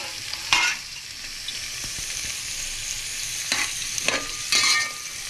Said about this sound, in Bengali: বিনস আর গাজরটা আমি দিয়ে দিচ্ছি। এটা হালকা একটুখানি ভাজবো, বেশি না,